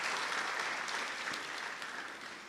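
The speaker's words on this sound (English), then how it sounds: "let's give them a round of applause" An audience at a Martin Luther King Jr. Center ribbon cutting ceremony applauds the event committee, a steady wash of clapping that slowly tapers over a couple of seconds.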